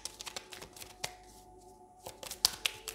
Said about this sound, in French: je vais battre le jeu quand même